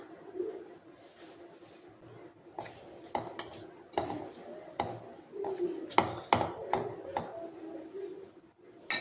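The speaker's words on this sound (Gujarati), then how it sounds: "આપણે અહીંયા ચમચીની મદદથી આપણે અહીંયા બધો લોટ મિક્સ કરી" A metal spoon clinks and scrapes against a bowl in irregular taps while mixing maida flour with hot sugar syrup into shakarpara dough, fairly close with quiet pauses between strikes.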